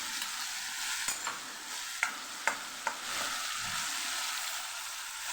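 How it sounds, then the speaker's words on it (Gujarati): Tomato and garlic chutney masala sautéing in oil with turmeric, coriander-cumin powder and salt, a steady close sizzle with a few sharp spoon clicks and stirring scrapes, no talking. "તેલ એકદમ સરસ છૂટું પડે ત્યાં સુધી આ મસાલાને આપણે સાતળી લેવાનો છે"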